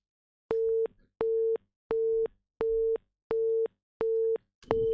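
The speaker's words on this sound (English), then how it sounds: "I'm hearing some dial tone or some busy signal" A telephone busy signal on a dropped call-in line to a radio program, seven steady, evenly spaced tone bursts with short silent gaps between them, fairly faint and heard alone.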